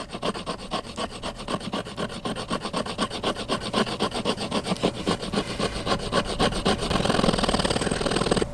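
A Work Tuff Gear Kitsune S knife scrapes along wood in fast, steady rhythmic strokes, a loud, close, rasping scratch that continues without pause.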